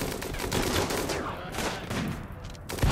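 Gunfire crackles through a RimWorld battle, a dense run of overlapping shots layered over game ambience for the full stretch, with a louder thump near the end.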